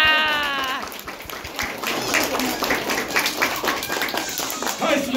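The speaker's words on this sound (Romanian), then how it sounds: "îmi răspundeți cu aplauze" Parents in the audience of a children's Christmas show break into applause mixed with cheering and shouted voices, the clapping dense and sustained under the crowd noise.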